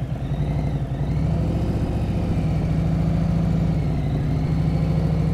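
A motorcycle engine runs at a low, steady rumble as the clutch is eased out slowly, its revs sagging slightly, close and continuous throughout.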